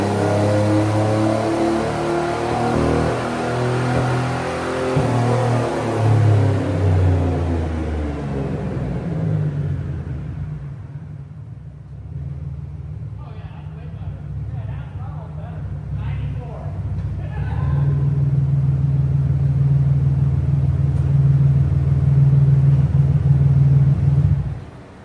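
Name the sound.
Beretta GTZ car engine revving on a dyno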